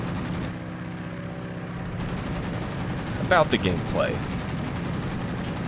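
Rapid gunfire and cannon bursts from aerial combat in the World of Warplanes flight game, loud crackling volleys with a brief whistling sweep, while someone talks over the action.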